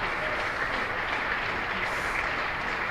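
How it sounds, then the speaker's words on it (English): A cricket crowd at a County Championship match between Surrey and Somerset applauds a batsman's fifty with steady, sustained clapping that stays even throughout. "And warmly appreciated by this crowd."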